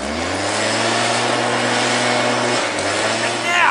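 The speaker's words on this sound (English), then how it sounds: "cue the wind machine." A wind machine blows in a steady, loud, broadband roar with a constant low motor hum, running continuously close by and dipping briefly near the end.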